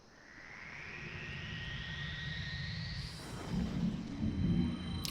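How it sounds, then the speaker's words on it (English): Low rumbling thunder from a storm in a Demon's Souls game area, a broad sustained roll that swells louder toward the end, with a rising tonal whine laid over it. "Don't know if you guys are going to be able to hear that thunder, but goddamn."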